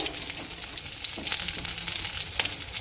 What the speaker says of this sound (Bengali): দেখতে পাচ্ছ কাঁচা লঙ্কাটা ভাজা হয়ে গেছে তেলের ওপরে